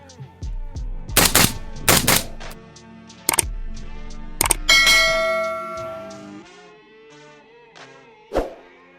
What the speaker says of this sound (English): Does shoot way softer with the flow through.